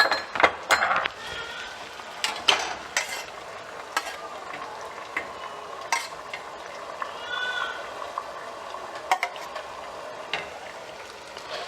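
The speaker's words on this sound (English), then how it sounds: "Now we're going to add the same amount of coconut oil into this. Let it mix a bit." Coconut oil being mixed into melted wax for homemade cream, with intermittent clinks and scrapes of a utensil against a pot over a faint hiss, close and fairly quiet.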